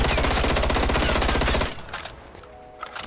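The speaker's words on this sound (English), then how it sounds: "I'm not doing anything but holding the trigger down right here." Rapid full-auto assault rifle fire from a first-person shooter game, a dense steady burst with the trigger held down for about a second and a half, then it stops and only faint game ambience remains.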